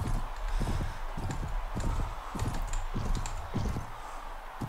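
Horse hooves clip-clopping in Mount & Blade Prophesy of Pendor, a steady rhythmic gallop of close, firm hoof strikes over battle ambience.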